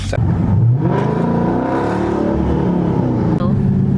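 A car driven in second gear in manual mode using the paddle shifters, its engine running steadily with a droning hum throughout and faint voice-like sounds mixed in.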